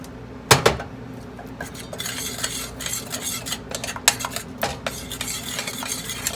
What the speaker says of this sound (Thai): ใส่กะทิลงไปอีกค่ะค่อยๆใส่ ไปเรื่อยๆ แล้วก็ผัดให้หอมๆ